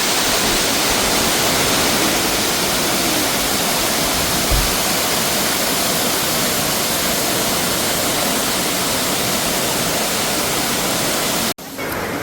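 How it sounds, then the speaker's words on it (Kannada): Loud, constant broadband roar of a waterfall on a trek at Gangadikal, close and unbroken, with a brief knock near the middle and a sharp cutoff at the end. "ಇದು ಇನ್ನೊಂದು ವಾಟರ್ ಫಾಲ್ಸ್."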